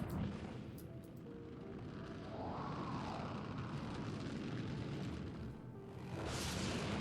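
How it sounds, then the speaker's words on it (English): Engines of a Mustang Beta spaceship in Star Citizen roar during takeoff, a broad rumbling thrust that swells steadily and builds toward a brighter rush near the end. "I'm going to go ahead and turn on the engines, take off, fly it around for a moment"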